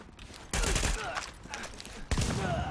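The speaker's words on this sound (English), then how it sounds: "I hear shooting." Gunfire in the video game Tom Clancy's The Division rings out in sharp, close bursts, with a cluster of shots near the start and another sharp crack later.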